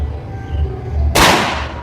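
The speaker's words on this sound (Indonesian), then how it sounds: "Tembakan keempat untuk Samyak lancip T3." A single sharp report from a 1400 fps project air rifle firing a pointed pellet cracks out loud and close after a quiet, low background hum.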